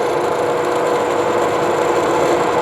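A Fowler PA1 stationary engine of 1.5 horsepower runs steadily at a slow 700 RPM, giving a continuous close mechanical chugging with no voices.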